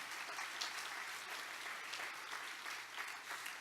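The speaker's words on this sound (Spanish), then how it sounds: "Dale fuerte el aplauso a Jesucristo," Church congregation applauding during a sermon, a continuous wash of clapping heard faint and distant, with no break across the few seconds.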